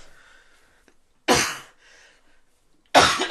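Two sharp, separate coughs from someone with a cold, close to the mic in a quiet room, with a soft breathy sound between them.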